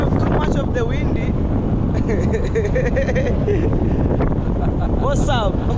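Loud wind rumbles and buffets a microphone outdoors by the water without letup, while someone talks over the blustery roar.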